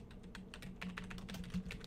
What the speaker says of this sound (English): I messed up typing my password.